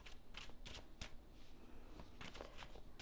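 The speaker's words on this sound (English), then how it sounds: "bear with me as I shuffle" Tarot cards being shuffled up close, a series of quick papery riffles and soft slaps in uneven bursts, fairly faint and with no voice over them.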